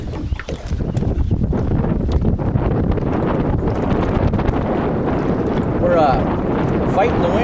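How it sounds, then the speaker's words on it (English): Wind buffets a microphone on a boat during bass fishing on Loon Lake, a loud, steady rumbling roar that runs throughout with brief gusty swells. "We're fighting the wind here and we're fishing about the only weeds we can find."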